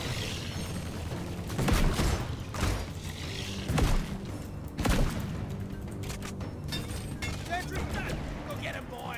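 A turret in Deep Rock Galactic firing laser-like shots in a few loud, close bursts over busy game noise, with a person talking throughout.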